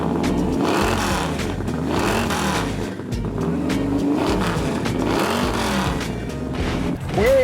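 Stage 3 Roush Mustang hot rod engine running loud and close, a throaty rumble that rises and falls with revs and ends on a sharp rev-up.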